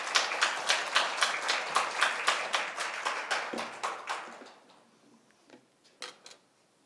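A church congregation applauds a missionary coming up to preach at a Sunday morning service, with steady close clapping from many hands that thins out and fades to a few scattered claps.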